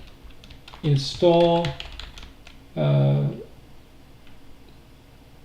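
Brief bursts of computer keyboard typing enter a pip install command, with quick key clicks close by while someone speaks over them.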